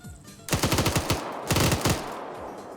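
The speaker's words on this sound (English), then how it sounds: "Snakes had to have heard those gunshots." Rapid automatic gunfire in a PvP shooter match, two close bursts of quick shots about a second apart, loud and sharp with a short echoing tail and no talking.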